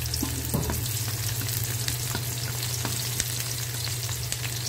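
Garlic and onion sauté in a hot pan with a continuous close sizzle, broken by light ticks and stirring scrapes.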